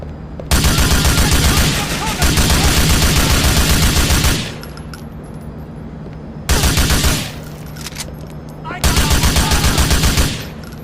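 Gunfire in the video game GTA 4: loud bursts of sustained automatic fire, three long volleys separated by short gaps with lingering echoes and clatter in between.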